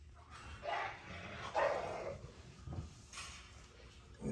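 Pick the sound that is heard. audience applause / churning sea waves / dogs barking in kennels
dogs barking in kennels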